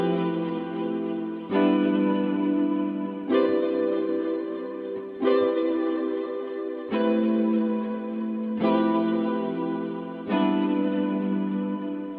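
A synth chord loop built for an upbeat hip hop beat in FL Studio: bright, effect-heavy chords hit in a regular repeating rhythm, each sustaining until the next, with no voices.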